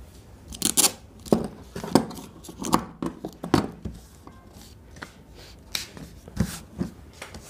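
Scissors snip through fabric while cutting a child's shirt collar pattern, a series of sharp, close cuts in an uneven rhythm with short pauses between them, heard alone without talk.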